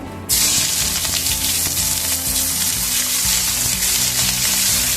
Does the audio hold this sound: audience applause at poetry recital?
no